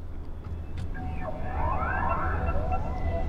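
A Mini Cooper S Electric's pedestrian warning tone, composed by Hans Zimmer, plays as soft rising and falling synthetic sweeps over a low steady hum, fairly quiet and continuous.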